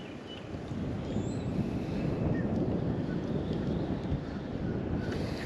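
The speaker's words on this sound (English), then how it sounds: "That wind, boy, sure does challenge you." Steady, loud wind blowing across a lake on Lake Eufaula, Oklahoma, buffeting the microphone in a continuous rough roar with no pauses and no talk.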